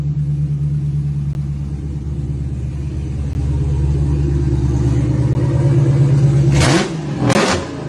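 A 2010 Hyundai Genesis fitted with a 392 Hemi (6.4L) V8 with shaker hood idles with a deep, loud rumble, then rises through a couple of sharp revs near the end, alone with no talk.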